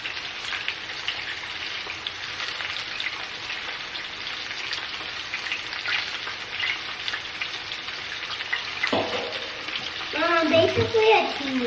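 Food deep-frying in oil in a deep steel pan, a continuous bubbling crackle that swells louder near the end, with people talking faintly underneath.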